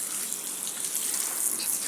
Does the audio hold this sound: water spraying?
yes